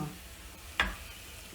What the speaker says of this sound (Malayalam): നമ്മുടെ വറവ് ഇതിലോട്ട് ഒഴിക്കാൻ പോകാട്ടോ